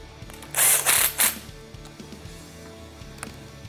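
A bolt being tightened on a Polyvance bumper stabilizer rack, with three loud ratcheting or power-tool bursts close up in the first second and a half, then quiet faint clicks of handling.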